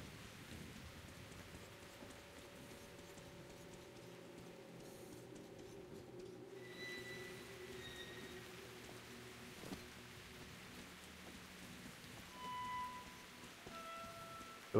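Steady rain hisses across the scene in the video game Metro: Last Light, a continuous wash of patter with a low rumble underneath and a few faint tonal game sounds, no voices.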